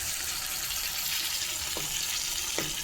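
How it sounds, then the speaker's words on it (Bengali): Fish frying in a pan, ready to be cooked down with tomato, green chilli and onion, gives a steady, even sizzle throughout with two brief faint clinks of the utensil. "এখানে মাছ ভাজি করতেছি"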